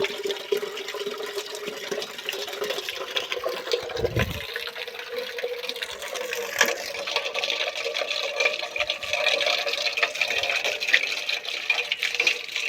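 Water gushes steadily from a farm borewell pump outlet, a continuous rushing splash that holds at an even, fairly loud level throughout.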